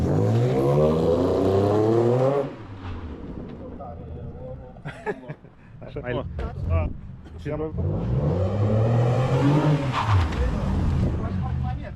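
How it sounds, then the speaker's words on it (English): A Mercedes CLS 350 engine revs up and pulls through first and second gear, loud and close, with a lull of clicks and knocks in the middle before the engine roars again. "Time to drive. First gear, second, throttle down."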